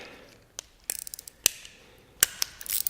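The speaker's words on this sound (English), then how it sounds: "we got this big 23 millimeter on this small quarter drive ratchet" A small quarter-drive ratchet fitted with a large 23 mm socket clicks at close range in a few sharp, separate ticks, ending in a short burst of faster clicking, with no talk.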